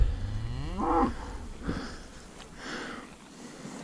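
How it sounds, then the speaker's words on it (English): A lineback cow with some Jersey breeding moos once, a close, drawn-out low call rising and falling, followed by softer snorts and breathing sounds outdoors on a morning cattle walk. "Here's a lineback cow."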